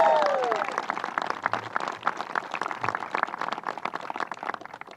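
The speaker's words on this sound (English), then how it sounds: "Let's give her another round of applause." Audience applause at a rally in support of a red flag gun protection bill, a steady patter of clapping from a moderate crowd, fading gradually, with a brief cheer at the start.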